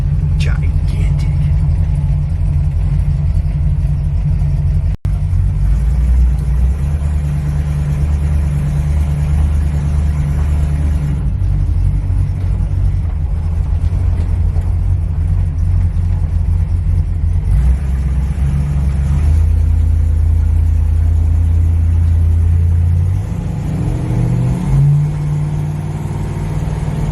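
A 1972 Chrysler Town & Country station wagon engine gives a steady, loud low rumble as it pulls and accelerates, with the drone shifting in pitch over nearly half a minute while a person talks over it.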